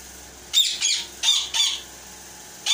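A pair of yellow ringneck parakeets give four or five harsh, shrill calls in quick succession, close and fairly loud, with short gaps between them and no talking.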